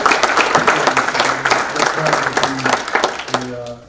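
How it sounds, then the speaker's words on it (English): Audience applause at a business forum for the Greater Boston Chamber team, a brief burst of clapping from a seated crowd that runs alongside an amplified speaker's voice. "can we give Jim and the Greater Boston Chamber team a round of applause for all their"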